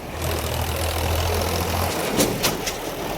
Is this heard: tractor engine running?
yes